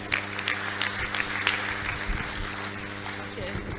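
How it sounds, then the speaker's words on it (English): A conference audience at an annual general meeting in Enugu applauds a presenter, scattered clapping over a steady background hum with some speech mixed in. "Please, can we give him another round of applause?"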